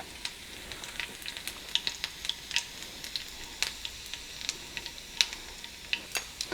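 Soft steady sizzle of ginger frying in hot oil with onion, dotted with sharp intermittent pops and crackles, no voices.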